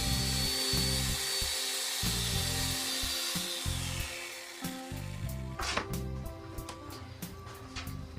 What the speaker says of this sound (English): An electric chainsaw can be used to bullnose corners around the windows